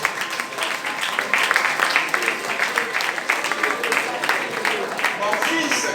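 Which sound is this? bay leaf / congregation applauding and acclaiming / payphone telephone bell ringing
congregation applauding and acclaiming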